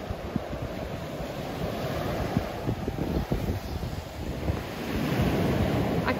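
Ocean surf breaking on the beach at Praia do Embrulho in Bombinhas, Santa Catarina, a steady roar of waves with wind buffeting the microphone, swelling slightly louder toward the end, no talk.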